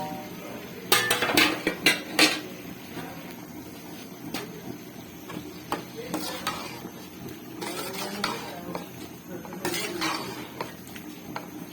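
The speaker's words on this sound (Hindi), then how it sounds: "अब मैं इसमें डालने लगी हूँ चिकन जो हमने रोस्ट करके रखा था दूध में।" Roasted chicken, previously cooked in milk, goes into masala in a cooking pot: metal clinks and scraping of a spoon, stirring and faint sizzling, with close clatter and brief voices.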